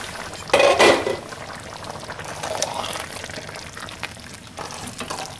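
Spaghetti sauce simmering and cooking down on low heat in a pot, a soft continuous bubbling and faint sizzle with a brief louder stirring clatter near the start, no talk.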